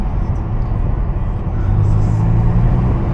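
A 2013 Audi S5 Sportback engine accelerating and downshifting, heard as a loud, close, steady low rumble that rises and swells slightly partway through, with no talking.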